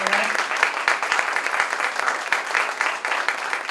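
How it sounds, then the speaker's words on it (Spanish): Steady applause fills an auditorium at a law symposium, dense and continuous throughout with no speech on top, the clapping held at an even, fairly loud level. "démosle un aplauso, démosle la confianza para que esté tranquila"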